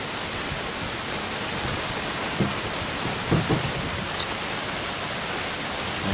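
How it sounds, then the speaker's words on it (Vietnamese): Steady rain hisses evenly throughout on an anchovy fishing boat at sea, with a few faint low bumps beneath the constant wash. "mưa tới"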